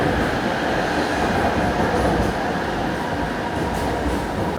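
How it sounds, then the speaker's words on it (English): An LRT train arriving at a station in Kuala Lumpur gives a steady, loud rumble of wheels and rail noise that holds through the whole stretch, with no talk over it. "There's the train."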